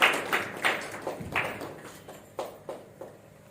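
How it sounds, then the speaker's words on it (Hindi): An audience claps at a spiritual group's gathering, with a few uneven bursts of hand claps that start strong and fade into scattered taps. "तालियां बजाने से आप लोग का बीपी भी बढ़िया रहेगा"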